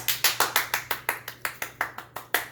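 About a dozen brisk hand claps ring out in a steady rhythm, close and fairly quiet, in a home kitchen.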